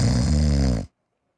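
A person imitates loud snoring with their voice, a single long rasping snore held for most of a second before cutting off into silence.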